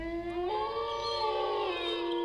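A wolf howls in The Beast Within: Gabriel Knight 2, a long, rising, wavering tone that swells after a brief start and holds steady at moderate loudness, with no talking over it.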